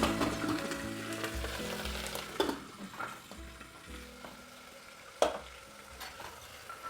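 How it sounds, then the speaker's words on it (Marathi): Green chillies and a pinch of asafoetida fry in oil in a covered pan for a veg biryani, a close sizzle and crackle punctuated by sharp pops and metallic knocks of the lid or spoon, no voices. "त्यानंतर यामध्ये जाईल मिरच्या. झाकून घेऊया आपण, तेल उडायला नको म्हणून."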